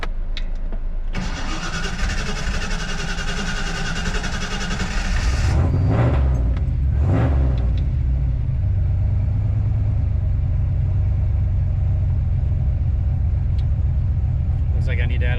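A turbocharged Foxbody Mustang with a Megasquirt setup cranks with a steady whirring starter, struggles briefly, then fires and catches into a loud, rumbling idle. A voice speaks over the engine noise.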